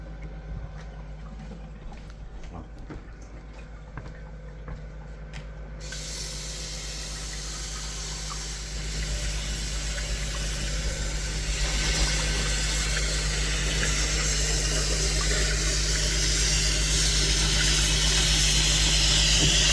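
Tap water pours into a cooking pot being filled for spaghetti, a continuous hiss that grows fuller and slightly louder partway through, steady and close with no speech.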